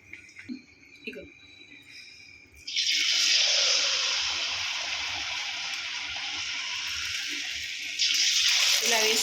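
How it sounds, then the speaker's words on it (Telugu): Bottle gourd fritters (sorakaya burelu) drop into hot oil and burst into a loud, steady sizzle that continues to the end, after a few quieter kitchen sounds. "వేగుతున్నాయండి."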